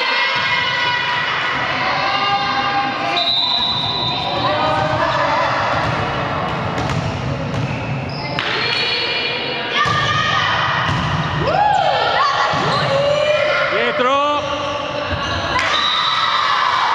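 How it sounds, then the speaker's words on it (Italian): Volleyball being struck during an amateur match in a gym, with repeated dull thumps of the ball amid constant loud shouting, whistles and crowd noise; players call out to each other throughout. "Stiamo giocando a pallavolo!"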